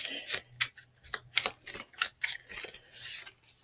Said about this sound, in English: I'm gonna actually shuffle over this.